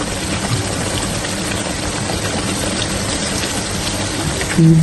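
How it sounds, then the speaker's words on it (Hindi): Water from two glasses pours into a pan of cooking lamb koftas, producing a loud, continuous hissing and bubbling rush that holds steady throughout and swells slightly at the very end. "अब मैं इसमें 2 गिलास पानी शामिल करूंगा।"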